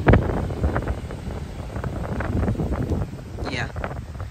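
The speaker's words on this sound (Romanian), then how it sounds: "Bate vântul." Wind blowing hard over a microphone on a coastal roadside on São Miguel in the Azores, near a waterfall and the sea; a steady loud buffeting rumble runs throughout with a brief whoosh near the end.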